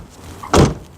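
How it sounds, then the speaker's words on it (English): Car door on an Overfinch-modified Range Rover P38 shutting once, a short, dull thud at close range against a quiet background. "door shut sounds"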